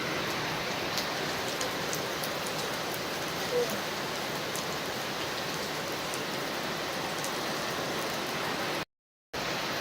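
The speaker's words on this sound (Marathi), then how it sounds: "इकडे पाणी बघा किती येतं पावसाचं" Steady, dense rainfall pattering on surfaces at Dapoli in Konkan, a constant hiss with scattered heavier drops, close by, no voices, briefly cutting to silence near the end.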